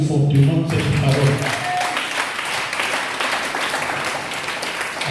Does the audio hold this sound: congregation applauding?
yes